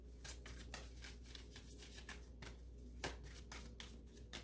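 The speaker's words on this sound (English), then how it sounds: "before I do a quick shuffle and cut" Soft, rapid riffling and flicking of tarot cards, repeated in quick bursts at close range with a low steady hum underneath.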